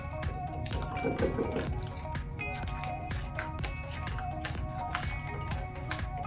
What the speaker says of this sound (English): I'm going to go ahead and drop just a few raisins in.